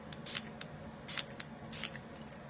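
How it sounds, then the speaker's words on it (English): A handheld spray bottle gives three short, crisp hissing spritzes in quick succession, close and clear against a quiet room background. "I do need to just spray this first"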